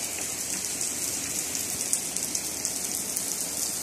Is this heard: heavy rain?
yes